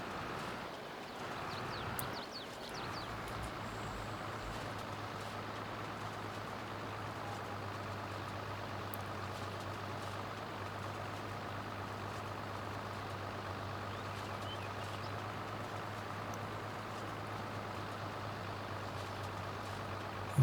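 Tractor in a farming video game hauling hay bales, a steady low engine drone running continuously at moderate level with a brief clatter near the start.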